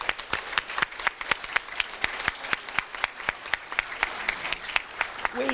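Applause at a Kiwanis awards ceremony for students, a steady round of clapping from a seated audience, sharp and evenly paced, with almost no voices.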